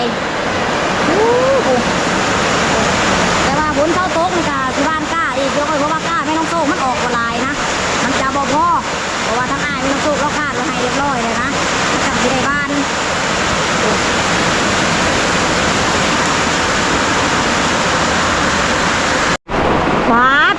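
Heavy rain pours down steadily outdoors in a dense, continuous hiss, with someone talking over it for much of the time.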